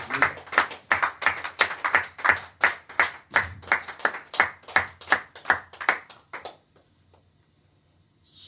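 A church congregation claps in a steady, fast rhythm of about twenty beats, loud and close, with faint acclaiming voices mixed in, then the clapping stops and near silence follows.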